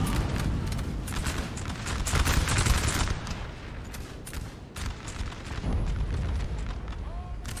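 A Napoleon Total War 3 battle rumbles with cannon and musket fire, dense overlapping booms and crackling volleys rolling on steadily, with a voice talking over the din.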